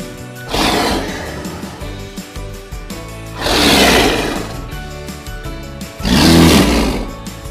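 A cheetah or leopard roaring in a children's alphabet song: three loud, rasping roars come at regular intervals about three seconds apart over steady background music.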